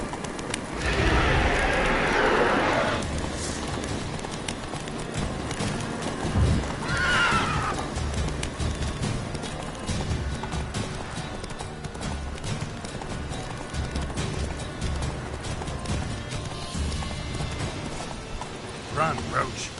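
Roach the horse in the video game Witcher 3 gives a loud whinny early on, then gallops in a fast clip-clop rhythm with a second neigh, over game ambience.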